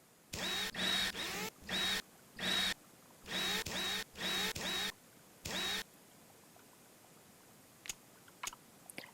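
Small screws being unscrewed from a cover on a Rover in a mechanic simulator game, a series of about a dozen short electric-driver whirs in quick succession, then quiet with a few faint clicks.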